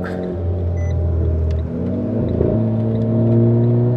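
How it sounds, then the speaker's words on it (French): A Porsche engine drones loudly and close as the car drives the Nürburgring, its tone dipping and then rising again as the revs change. "Encore une Porsche."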